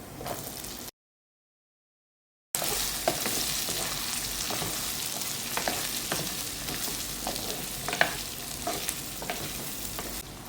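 Shallots, green chilies, ginger and garlic sizzle in hot oil in a pan, a steady crackling fry with frequent stirring scrapes, cut briefly to silence near the start.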